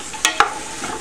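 Onions and vegetables stirred in a pan of sizzling olive oil, with two quick scraping stirs over a steady low fry hiss.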